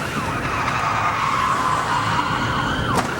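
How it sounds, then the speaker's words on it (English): Long, wavering tire screech as a top-heavy van skids and spins out during a police chase, loud and close over a rushing road background, ending in a sharp brief burst. "This spin-out was unavoidable once the top-heavy van clipped that car."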